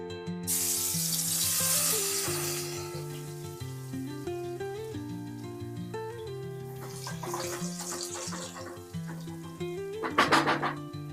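A whole garlic bulb hisses as it fries in hot oil for a crab curry. The sizzle comes in broad surges, loudest early and again near the end, under steady background music.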